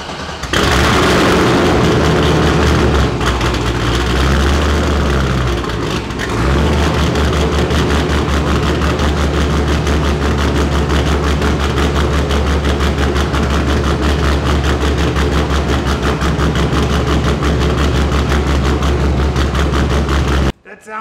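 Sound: LS-swapped Mazda Miata engine running with real exhaust

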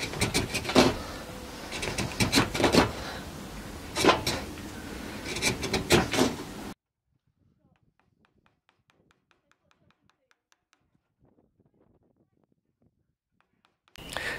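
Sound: carving green wood cup with gouge and mallet

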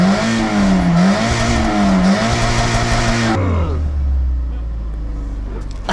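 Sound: BMW E30 car engine revving

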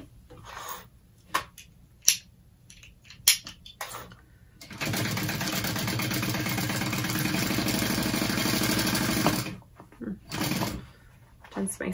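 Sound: sewing machine stitching along a backpack's top edge

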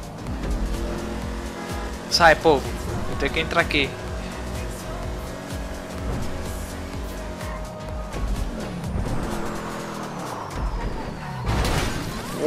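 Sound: muscle car racing engine in video game GTA V

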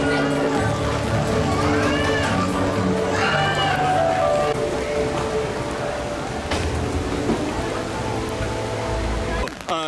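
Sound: rain falling

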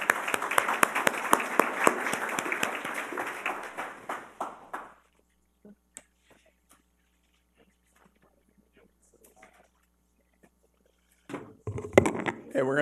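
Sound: audience applause after a panel

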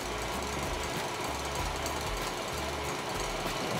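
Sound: electric mixer whipping coconut pajeon batter

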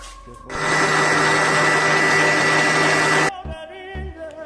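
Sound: electric mixer whipping cream

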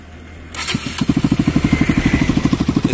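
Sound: modified motorcycle engine starting and running, exhaust

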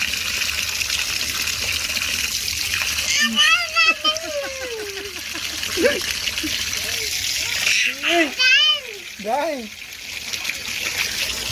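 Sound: tap water running and splashing into container

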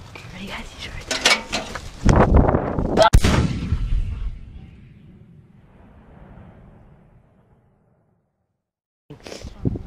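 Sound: guns shooting during hide and seek

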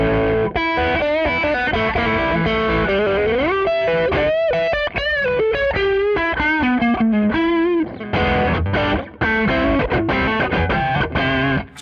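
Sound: electric guitar through tube screamer overdrive

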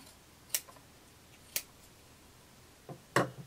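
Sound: scissors clipping off fabric seam allowance

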